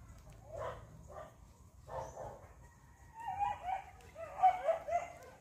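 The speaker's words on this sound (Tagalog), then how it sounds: "Ingay yung aso" A dog barks in short bursts, a few sharp barks early, then quicker yips and whimpering barks toward the end, moderately close.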